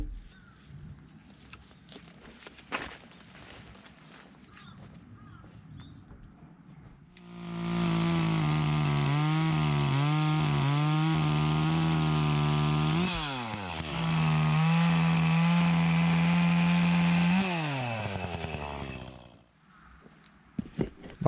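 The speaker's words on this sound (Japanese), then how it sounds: "こんな感じでひたすらに切りまくって、あとは割るだけっていう状態にしておきました" Chainsaw cutting firewood in the countryside in winter: after a few seconds of quiet outdoor sound, the engine roars in close and loud, holding a steady pitch that dips as it bites into the wood, then dies away.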